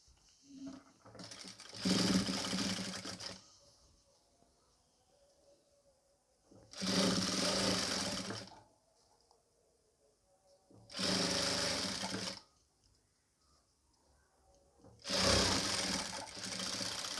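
Sewing machine stitching a nighty, running in four separate bursts of a few seconds each with quiet pauses between them, loud and close.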